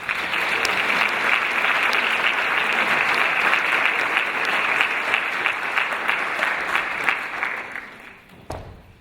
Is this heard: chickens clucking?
no